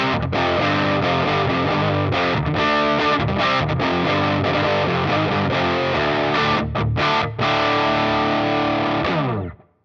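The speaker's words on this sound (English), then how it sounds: "Here's more of a mid-gain setting where it starts to turn into more of a distortion than an overdrive" Heavily distorted electric guitar through a Jeds Peds Distortion Plus pedal at a mid-gain setting plays chords continuously at a loud, crunchy gain, then stops abruptly near the end.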